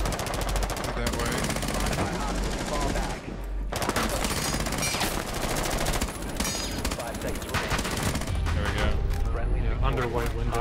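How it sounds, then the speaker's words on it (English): Rapid, dense automatic gunfire from several weapons at once in Rainbow Six Siege, loud sustained bursts overlapping almost continuously with a brief pause, while players talk over it. "three or four different guns firing at him at any one point there"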